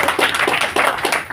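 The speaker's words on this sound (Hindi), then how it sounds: "सारे के सारे अपलाइनों के लिए जोरदार तालियां" An audience in a hall claps loudly and steadily for their uplines at a Hindi motivational business meeting, a dense, close rhythmic patter of many hands.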